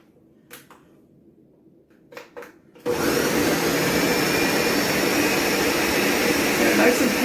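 A kitchen blender suddenly roars to life after a few soft clicks and handling sounds, then runs loudly and continuously as it purees a cooked sauce for eggplant parmesan.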